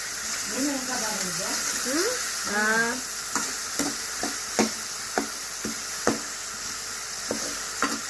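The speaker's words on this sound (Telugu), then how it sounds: "వెల్లుల్లి కొబ్బరి కరివేపాకు పచ్చిమిర్చి జీలకర్ర వేసుకుని కొన్నాం కదా కొంచెం వేసుకున్నాం కొద్దిగా వేసుకొని పచ్చివాసన పోయినా ఫ్రై చేసుకోండి" Garlic, coconut, curry leaves, green chili and cumin frying in a pan, with a soft steady sizzle and a run of sharp knocks and scrapes from stirring, while a voice talks early on.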